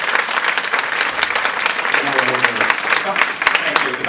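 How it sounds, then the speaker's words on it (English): Applause from an audience fills a question-and-answer session, a loud sustained burst of clapping from a crowd. "not make this into a competition about who can generate the most applause for questions"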